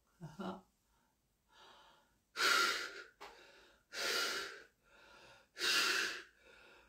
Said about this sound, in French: Comme si vous souffliez un gros ballon.